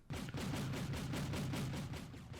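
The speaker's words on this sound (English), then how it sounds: "flak panzers opening up" Flak tanks firing anti-aircraft guns in the Wargame battle game: a fast, continuous stream of rapid cannon bursts at a steady, dense rhythm, fairly loud and uninterrupted, with no talk.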